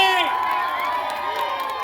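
Crowd at a Teej fair in Faridkot, Punjab cheering and hooting, a dense wash of shouting voices and whoops, fairly loud and close, with no distinct claps standing out.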